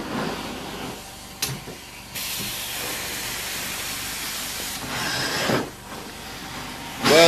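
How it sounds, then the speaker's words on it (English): A carpet cleaning machine pushing hot water through, a continuous hissing spray with louder surges and brief pauses, heard alone. "Water nice and hot. Just steaming that right on through."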